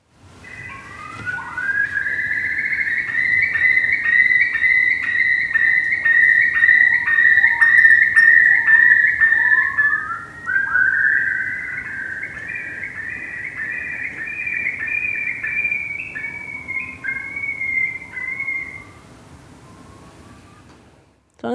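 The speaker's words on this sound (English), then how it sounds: "a song that the bird uses to define its territory" A recorded songbird delivers long, bright, whistled phrases that trill and slide, played loud and steady for about twenty seconds with a short break midway and no talk over it.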